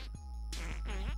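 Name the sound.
fart sound from the video game South Park: The Fractured But Whole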